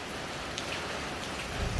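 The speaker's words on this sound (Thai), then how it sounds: "จะเริ่มหยุดแล้วฝนตกตั้งนาน" Heavy rain keeps falling as it begins to ease off, a steady, dense hiss of drops on surfaces that fills the whole clip at fairly constant loudness.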